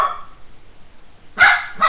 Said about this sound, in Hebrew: זה כלב שלי.